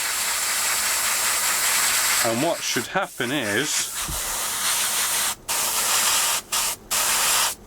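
An aerosol spray can lays black paint onto a 1/48 scale HobbyBoss F-14D Super Tomcat model, a loud steady hiss broken by short pauses, with someone talking briefly over it.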